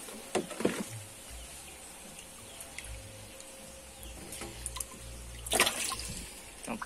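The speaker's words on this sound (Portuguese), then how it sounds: "Tirar água aqui para ver se dá pra ver melhor." Water is scooped and splashed out of a backyard fish-rearing water tank, with two distinct watery sloshes several seconds apart over a quiet, trickling background.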